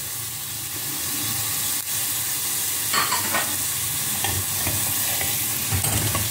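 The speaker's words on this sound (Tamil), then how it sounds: "இந்த வெங்காயம், இஞ்சி பூண்டு விழுது, இந்த வெங்காயம் நல்லா வதங்கணும்." Onions frying in a pan with ginger garlic paste, giving a continuous close sizzle with a few scraping stirs partway through.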